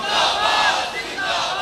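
A large crowd at a religious gathering loudly chants slogans in unison, a sustained roaring cry with rising and falling voices that fills the space.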